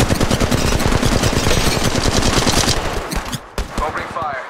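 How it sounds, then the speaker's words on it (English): Automatic gunfire in the Apex Legends Mobile video game, loud rapid bursts of shots that run steadily then break into a few scattered shots near the end. "Opening fire."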